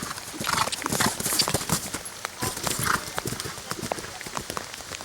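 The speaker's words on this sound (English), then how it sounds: "That's Sportsfield Earl Grey again, but with a far less talented rider in the irons." A horse named as an eventing competitor clip-clops under a rider in a steady, uneven hoof rhythm, fairly close, with some faint scuffing between the beats.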